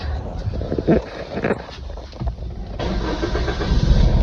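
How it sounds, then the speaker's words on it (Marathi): Engine cranking on a vehicle with a weak battery after a week of sitting idle, a labored rough churning that rises and settles into a steady low rumble, heard close with a faint voice underneath. "चालू करू आता परत सेल्फ स्टार्ट मारू"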